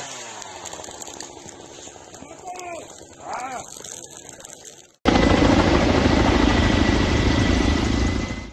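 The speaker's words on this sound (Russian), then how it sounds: "вертолет К-32 проводит точечные сбросы по гребню склона" A Ka-32 helicopter drops water on a wildfire along a slope ridge: a roaring, broadband rush starts abruptly and holds steady and loud, after a stretch of news voices and background engine noise.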